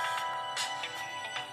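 Stock ringtone from a Sony Xperia Z smartphone, a short bright synthetic melody of repeated tonal notes with a few accented pulses, steady and close over about a second and a half, with no voices.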